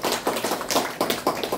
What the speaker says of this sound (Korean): 큰 박수로 해주시면 고맙겠습니다